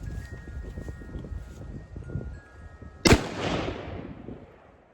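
A single loud rifle shot using Hornady whitetail factory ammunition cracks out at a range, a sharp report followed by a decaying echo over quiet background noise.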